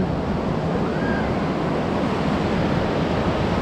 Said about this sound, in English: somebody's taking a video of the waves coming through here